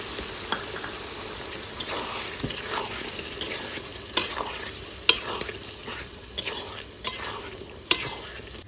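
Chicken simmering in a pan with yogurt and a little water, stirred by hand: steady soft sizzle with scattered scraping clicks of a utensil against the pan, close and moderately loud, no talking.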